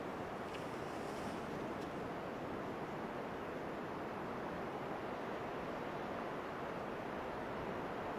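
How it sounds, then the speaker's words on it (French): Ocean waves wash onto a beach north of Dublin, Ireland, in the early morning, a steady close roar of surf with wind noise and no voices throughout. "bruit des vagues"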